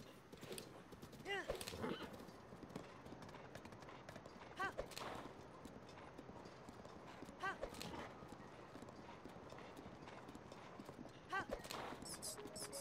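Hooves gallop in a steady, rapid clip-clop from a horse in the video game Zelda: Breath of the Wild, played on Master Mode, with a few brief neighs or whinnies rising above the running rhythm.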